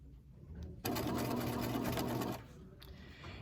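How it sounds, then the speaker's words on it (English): A sewing machine runs steadily for about a second and a half, stitching fabric for a bucket hat, a loud continuous whir that starts and stops abruptly against quiet room tone. "make sure you sew up to your pins, but don't sew on them"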